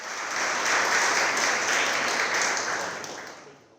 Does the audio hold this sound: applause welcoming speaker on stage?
yes